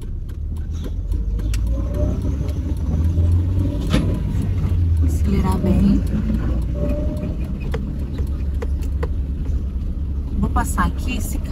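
A car driven up a steep hill on the way to a hospital gives a steady low engine rumble under the effort of climbing, heard from inside the cabin while someone talks over it.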